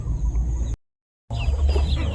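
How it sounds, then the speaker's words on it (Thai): Chickens cluck on a rural farm with ducks about, a steady low barnyard murmur of fowl close by, broken by a brief gap of silence midway. "อันนี้ก็จะเป็นไก่เนาะค่ะเนาะ มีเป็ดมีไก่นะคะ"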